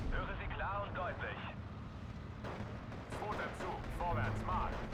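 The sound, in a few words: gunfire in a WWII video game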